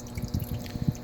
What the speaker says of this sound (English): I've been in here tinkering around waiting for the water to drain